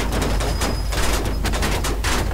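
Dense rapid gunfire fills a shooting scene in the game Mafia 2, a steady loud stream of overlapping shots with no pauses.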